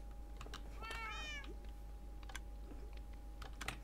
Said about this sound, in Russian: Блин, бедные коты, у них нету места.